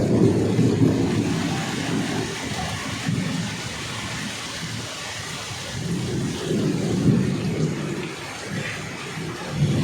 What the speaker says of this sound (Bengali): স্বস্তির বৃষ্টিতে এমন দৃশ্য।